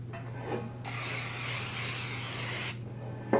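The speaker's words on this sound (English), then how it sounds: "So I'm going to start by spraying my pan" A steady, loud hiss of aerosol cooking spray runs for about two seconds, with quiet room sound before and after.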